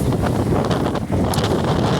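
Steady, rough wind buffeting a microphone on a beach at Birzebbuga, Malta, a loud low rumble with gusty broadband noise throughout, no voices.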